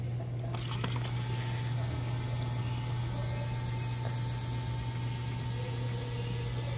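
A washing machine begins draining, giving a steady, low, droning pump hum with faint clicks and rattles in a quiet room.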